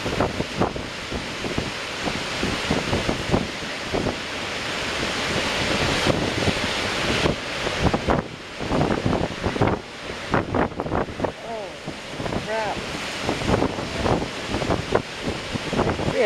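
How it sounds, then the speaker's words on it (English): Crashing ocean waves and strong gusting wind during a storm at Campbell River, loud and continuous with repeated surges of surf and heavy wind buffeting the microphone. "Look at those goddamn waves."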